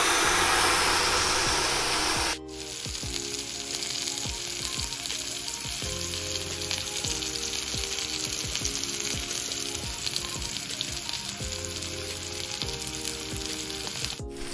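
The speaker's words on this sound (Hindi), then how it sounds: "चिकन को ग्रिल करते हुए 10 मिनट हो गए हैं" Chicken steak grilling over heat, giving a loud continuous sizzle that cuts abruptly to a steadier frying hiss with faint clinks and a rhythmic mechanical hum underneath.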